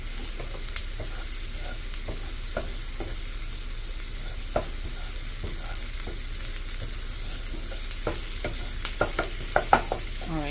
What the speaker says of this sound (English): So you want to cook your eggs before you mix everything together.